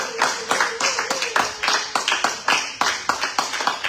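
A church congregation at a Sunday service claps in steady rhythm to acclaim Jesus, crisp repeated hand claps filling the room at an even tempo with voices underneath.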